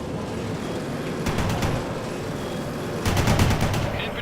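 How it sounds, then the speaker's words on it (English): Bradley infantry fighting vehicle firing its cannon from position in the World in Conflict real-time strategy game, two rapid bursts of repeated shots over a steady battle din. "Bradley firing from position."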